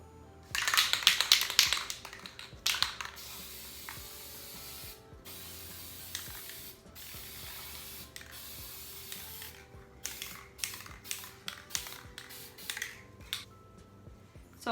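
Aerosol spray paint hissing over the pole holders of a dresser being refinished, several long close bursts at the start and then shorter intermittent sprays with clicks and handling noises between them.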